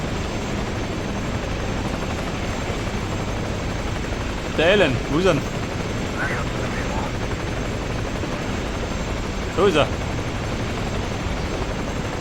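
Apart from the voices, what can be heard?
helicopter taking off in video game Ghost Recon Advanced Warfighter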